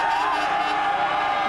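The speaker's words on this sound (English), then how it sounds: "The crowd, they're going wild." British motocross fans at a Motocross des Nations podium ceremony raise a sustained roar of cheering and whooping, loud and continuous throughout, with a crowd hubbub underneath.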